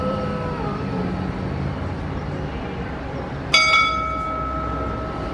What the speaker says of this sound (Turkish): Herkes o gong sesini bekliyormuş.